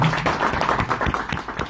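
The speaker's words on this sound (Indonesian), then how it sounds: "Tepuk tangan dulu buat sponsor" A short burst of audience clapping rings out for the sponsor, the Indonesian Embassy in Seoul, at a gathering in Korea, dense and brief, close by and with no talk over it.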